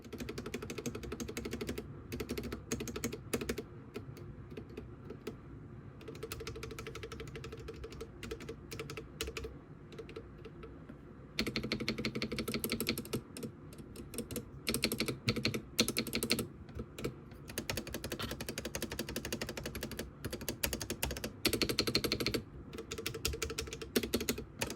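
Typing on a Feker IK75 Pro mechanical keyboard, steady bursts of close key clacks and rattles continuing for about twenty-five seconds with short pauses, heard alone without talk.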